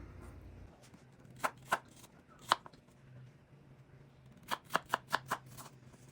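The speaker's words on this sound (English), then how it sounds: "and then into little cubes like that." A knife cuts apples into small cubes on a cutting board: a few sharp separate chops, then a quick run of six evenly spaced taps, all close and crisp over a quiet background.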